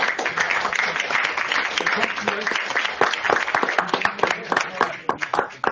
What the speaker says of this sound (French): Je pense qu'on peut vous applaudir pour avoir fait.